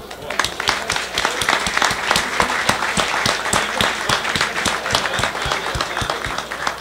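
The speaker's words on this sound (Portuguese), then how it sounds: "merecem a salva de palmas" Applause from the audience at a startup panel event at a Geeks On Beer meetup in Rio de Janeiro, with steady dense clapping across the whole stretch and some crowd murmur mixed in.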